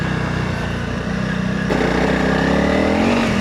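A Honda CRF300 Rally motorcycle rides along a gravel road in second gear, its engine droning steadily and loud up close, with the pitch rising slightly partway through as the rider accelerates.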